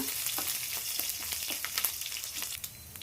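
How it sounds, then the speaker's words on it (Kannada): Garlic, dried red chillies and curry leaves fry in hot oil in a pan, a soft steady sizzle dotted with quick crackles and pops, close and fairly quiet, with no talking. "ಸ್ವಲ್ಪ ಕರಿಬೇವು ಹಾಕ್ಕೊತೀನಿ. ಚೆನ್ನಾಗೆ ಹುರ್ಕೊಳ್ಳೋಣ."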